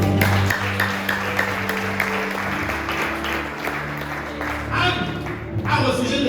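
A church congregation claps and cheers in praise of God: steady, dense applause from a crowd throughout, with voices mixed in and a sustained organ or keyboard chord underneath.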